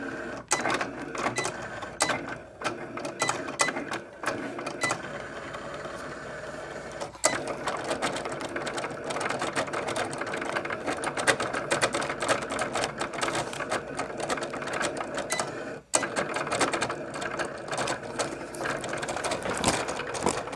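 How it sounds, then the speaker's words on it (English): A Cricut cutting machine cuts out a design for a memorial lantern, giving a steady mechanical whirring and ratcheting hum with quick clicks and shifting motor tones, running continuously and close. "I press the other button and I will send it through the Cricut so it can cut out my design."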